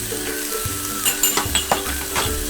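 Pre-boiled mixed vegetables, including green beans, hitting a hot pan for Kerala-style vegetable korma: a loud close sizzle with several quick clattering stirs and scrapes over a couple of seconds.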